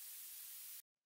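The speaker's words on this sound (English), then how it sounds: "this little noise which plays in the background" Ableton background noise layer for a warped rave track, a steady bright hiss of static that cuts off abruptly after under a second, leaving near silence.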